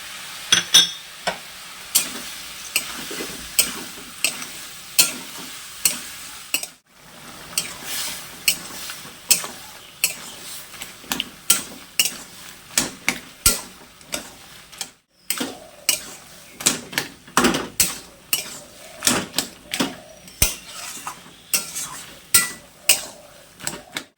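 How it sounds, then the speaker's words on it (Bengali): Vegetables with thor, potato and fried bori being stir-fried in spices, a long run of sharp spatula knocks and scrapes on the pan over a soft sizzle, irregular at first then quickening into a steady beat, close and fairly loud. "এবারে কিছুক্ষণ আমি মশলা দিয়ে ভালো করে কষে নেব।"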